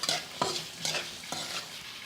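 Green peas stir-fried in a pan for a Lahori-style beef karahi: four evenly spaced scrape-and-toss strokes with light sizzling, close but quiet, no voices.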